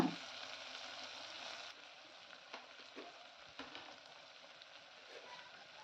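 Chopped onions and coriander fry in a pan, giving a steady close sizzle with occasional soft crackles and a faint stir partway through.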